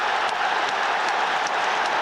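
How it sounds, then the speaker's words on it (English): Steady applause fills the space after a goal at a football match between Aston Villa and Arsenal, continuous dense clapping with no pauses, moderately loud and even throughout. "Oh, sorry, I'm applauding."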